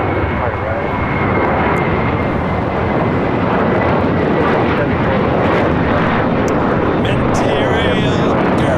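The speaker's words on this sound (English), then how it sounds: "That is JetBlue Airways Flight 1774 taking off to Newark on an A321 Material Girl" A JetBlue Airbus A321 jet roars loudly on takeoff, a continuous broadband engine rumble, with faint radio chatter.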